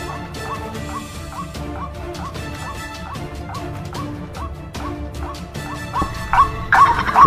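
A recorded bird call is played through a speaker to lure birds while hunting with an air rifle in a wild swamp, repeating as short, rhythmic chirping notes over a constant busy background, with a louder burst near the end.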